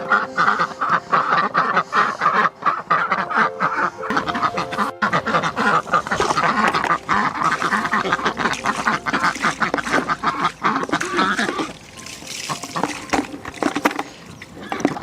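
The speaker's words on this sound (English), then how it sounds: "So the ducks live in two separate houses, and each morning I let them out." A flock of ducks let out of their houses in the morning, loud close quacking that keeps going and overlaps throughout, with a few honking calls mixed in.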